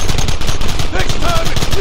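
Rapid, loud gunfire crackles in a Red Dead Redemption shootout, a dense burst of close shots filling the whole moment without pause.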